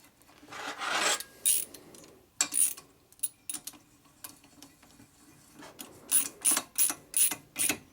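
A socket wrench turns the engine of a 1983 Harley FLTC 80ci shovelhead motorcycle, giving soft rasping, ratcheting clicks in short bursts, quieter at first and then a quick run of regular clicks near the end.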